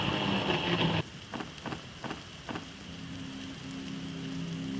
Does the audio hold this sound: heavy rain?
yes